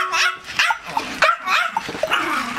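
A dog barks and yips indoors in a quick series of sharp, close barks mixed with whiny whimpers, loud and irregular, with no talking over it.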